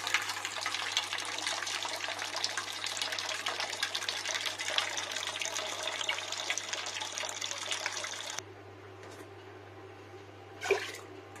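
Water running steadily into a cooking pot for a lentil dal, a continuous close gushing flow that stops after about eight seconds, leaving a low background hum and a small clunk.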